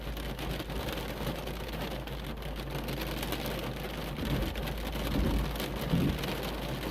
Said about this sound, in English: Here comes the rain, folks.